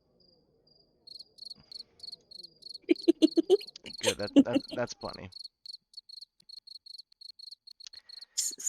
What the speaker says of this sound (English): So many crickets out here.